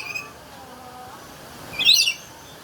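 Parrots at a zoo during feeding, with a brief, loud burst of high squawking calls near the end after a stretch of quiet background.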